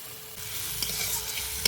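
Green banana slices fry in a pan with spices and chili powder, giving a steady, even sizzle with a couple of small stirring clicks, close and moderately quiet, without speech.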